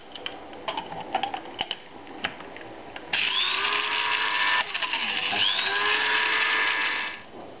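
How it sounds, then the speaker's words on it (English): Electric spice mill grinding dried spices with kaffir lime, starting with scattered clicks and taps, then a loud steady whirring grind that pauses briefly and resumes before stopping. "And then this goes into a spice mill."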